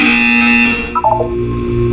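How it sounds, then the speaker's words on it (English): A synthetic buzzer from the video game Portal 2 sounds as one loud, harsh, sustained electronic tone that cuts off and slides into a brief descending warble, with a low hum lingering after. "When you hear the buzzer, look down at the floor."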